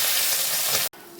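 Tangra fish sizzle and spit in hot oil in a wok, a close, steady frying hiss that cuts off abruptly near the end.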